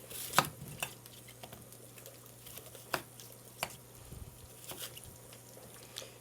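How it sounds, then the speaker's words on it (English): A knife slicing through a peeled apple, several quiet separate cuts and taps against a board in a calm kitchen, spaced irregularly with faint background hum. "once it's peeled, I'm going to slice the apple"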